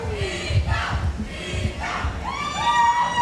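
A crowd at a nightclub fight night shouts and cheers continuously, loud and close, with voices rising and overlapping into a swelling roar near the end.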